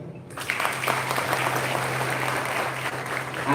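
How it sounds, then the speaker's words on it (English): Audience applause for first-year juniors at a college induction inauguration, a dense steady wash of many hands clapping that starts abruptly and holds loud throughout, with a low steady hum beneath. "Firstly, let's have a round of applause for the juniors here."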